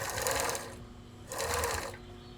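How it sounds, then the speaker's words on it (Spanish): Sewing machine running a straight stitch along bias tape on a fabric microwave cover, two short whirring bursts with a brief pause between, close and clear with no talking. "Vamos a trabajar ese sesgo con puntada recta."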